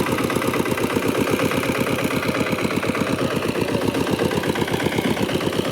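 A farm tractor engine runs steadily close by, a loud, even rhythmic chug that never changes pace, with no voices.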